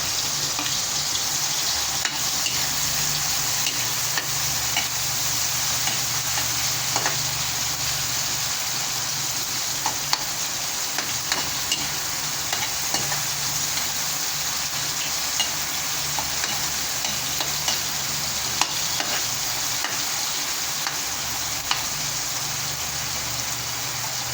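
Ginger sautéing in a pan as the base for a mayamaya fish sinigang with miso and calamansi: a steady, close, loud sizzle with occasional faint stirring scrapes and no voices.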